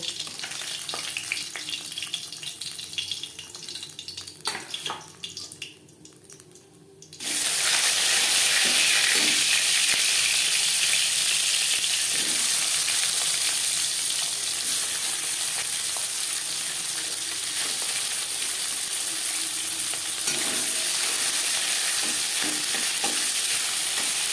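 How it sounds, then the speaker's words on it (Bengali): Tangra fish fry in a kadai of oil with a loud, steady, close sizzle that jumps sharply after a few seconds of quieter stirring and scraping, then holds strong, with occasional utensil clinks and no speech. "মাছ ভাজা হয়ে গেছে"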